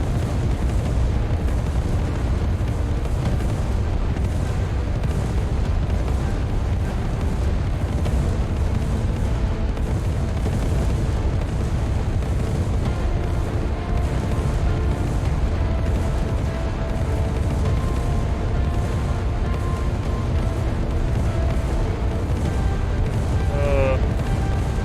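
RPG explosions tearing through zombie hordes in the game SwarmZ, a dense, unbroken rumble of overlapping booms and blasts sustained at high level for the whole stretch.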